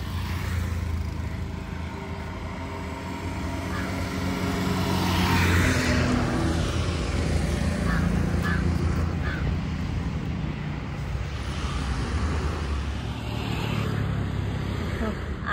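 Road traffic moving again after a jam clears on a roadside in India, a steady broadband rumble of passing cars and engines continuing throughout, fairly close, with a louder surge midway and faint voices in the background.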